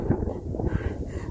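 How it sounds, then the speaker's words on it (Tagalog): Strong wind buffets a microphone on a Hong Kong hilltop during a hike, a continuous low rumbling roar with gusty swells, close and loud, with no speech. "Grabe ang hangin"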